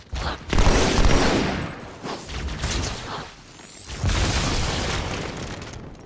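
Heavy gunfire and booming blasts from Halo 2 roar in dense, loud bursts that ease off briefly in the middle and then surge again, with no talk over them.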